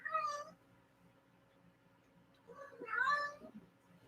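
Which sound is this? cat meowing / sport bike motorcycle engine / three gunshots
cat meowing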